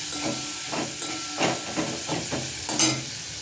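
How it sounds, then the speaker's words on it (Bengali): Small puti fish with chili fry in hot oil, giving a steady broadband hiss with crackling pops, close and continuous with no voices. "হালকা একটু ভেজে নেবো"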